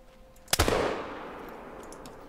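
A single rifle shot fired at a bison in the hunting video game theHunter: Call of the Wild, a sharp loud crack followed by a long rolling echo that fades out.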